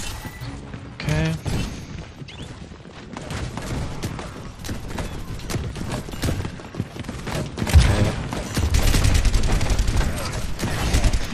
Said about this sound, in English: Let's shoot at the wall for a bit.